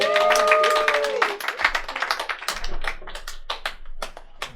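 Audience at a live comedy show applauds as comedian Barika Akira is introduced, with scattered hand claps and taps building after a voice trails off, then thinning into a loose patter.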